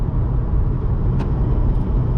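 A rotary-engine car cruising at about 60 mph produces a loud, steady low rumble of road and engine noise heard from inside the cabin, with a faint brief click partway through and no talk.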